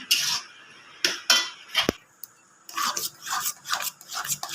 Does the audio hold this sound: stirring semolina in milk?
yes